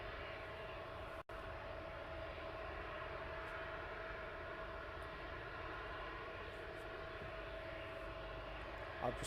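At East Midlands Airport at night, an aircraft taxis toward departure with a faint, steady, distant engine drone that holds throughout, broken by a single sharp click.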